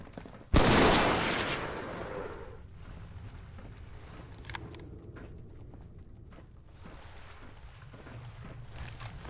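A shotgun fires once in the Fallout 4 video game, a single loud close blast followed by a long decaying echo and faint mechanical clicks, with no talk.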